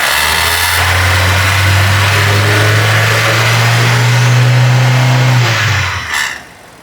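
A car engine is held at a steady mid-range rev of about 2,500 to 3,000 RPM during an alternator and electrical check, giving a loud, constant hum close by. It drops back sharply near the end.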